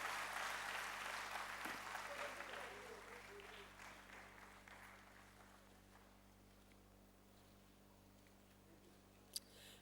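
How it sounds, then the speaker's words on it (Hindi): Applause for an honoree at an Ayurveda award ceremony, a broad wash of clapping that starts fairly full and gradually thins and fades over several seconds, with a low steady hum underneath. "वैद्यराज तालियों से उनका हम अभिनंदन करते हैं।"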